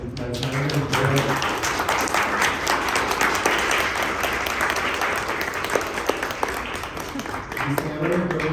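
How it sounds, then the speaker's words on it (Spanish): An audience at a cyberpunk literature panel in Mexico breaks into sustained applause, dense clapping filling the room for several seconds, with a voice speaking briefly at the start and end. "Quisiera que le diéramos un aplauso a Citlali Espinosa"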